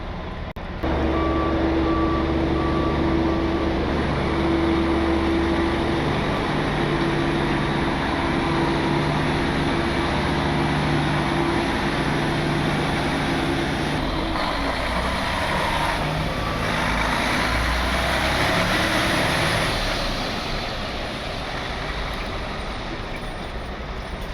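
A truck pulls around and reverses into a building, its engine droning loudly and steadily while a reversing alarm beeps repeatedly, followed by a brief hiss of air brakes.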